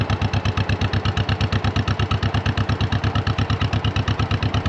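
A tractor engine idles at a steady, even rhythm of rapid low thumps, close and loud with no other sounds over it, before being hooked to a planter.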